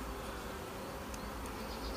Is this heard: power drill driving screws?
no